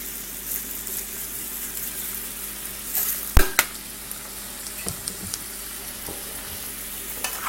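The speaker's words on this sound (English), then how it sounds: "we're just going to brown this a bit and caramelize these shallots, get them nice and tender" Shallots brown and caramelize in a pan for a beef stew, with a low continuous frying sizzle, a sharp clank of a utensil against the pan, and a few light scraping stirs.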